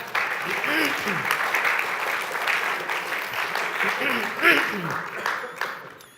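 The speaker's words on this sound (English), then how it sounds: "How about a round of applause for them?" An audience applauds security staff guarding a dialogue event, a steady wash of clapping lasting several seconds while a voice keeps talking over it.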